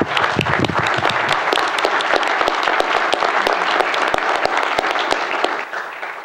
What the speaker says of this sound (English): And I'd like to recognize this future leader, and I'll give him applause,